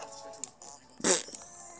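A short, comic fart sound effect from the Super Bear Adventure video game pops out once, brief and fairly quiet, amid soft game noises.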